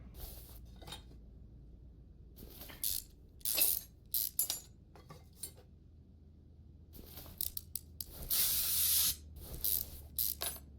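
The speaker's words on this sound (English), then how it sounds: "I love the WD-40 effect." Short bursts of spray from a WD-40 can in the Car Mechanic Simulator 2021 game hiss repeatedly, mixed with metallic ratchet clicks and tool clinks, close and crisp against near silence.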